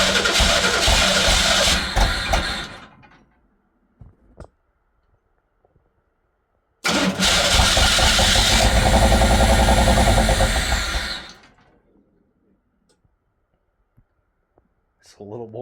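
A Pontiac Fiero engine runs roughly for about two seconds and cuts out, then after a silent pause cranks back to life and idles loudly for several seconds before dying again, with voices speaking around it.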